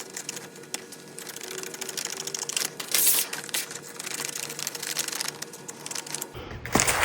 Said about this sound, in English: So right now we're just going to trim the 2 long edges.